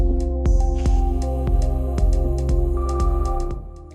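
An electronic music jam made on an Ableton Move groovebox plays: a steady beat of sharp percussive hits about every half second over sustained tonal synth chords, loud and close with no talking.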